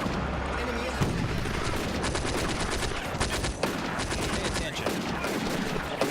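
A fierce firefight in the wartime strategy game Combat Mission: Afrika Korps, with German defenders holding their ground: dense, overlapping rifle and machine-gun bursts crackle on without pause, close and loud throughout.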